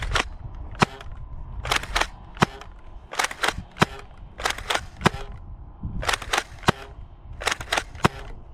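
A Nerf Rival Pathfinder XXII-1200 blaster fires foam rounds downrange in a series of crisp, snappy pops, some single and some in quick pairs, each with a faint mechanical clack, spread irregularly over several seconds.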